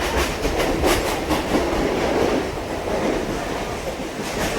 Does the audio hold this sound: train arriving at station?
yes